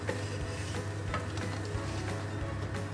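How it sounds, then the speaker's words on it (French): Butternut and goat cheese galettes fry in a pan with a steady, close sizzle, small pops and a low hum underneath throughout. "Et puis on laisse cuire jusqu'à ce qu'on puisse les retourner."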